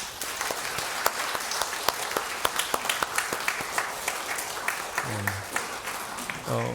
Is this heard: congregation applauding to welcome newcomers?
yes